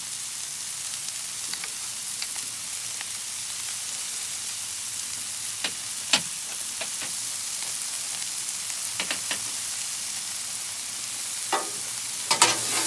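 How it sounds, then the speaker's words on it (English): Vegetables and chicken sizzle steadily in butter on a Blackstone griddle, with a spatula scraping and clicking across the flat-top every few seconds; the sound is close, even and continuous, with no talking. "So just stir that up real good. Want those veggies to soften up a bit."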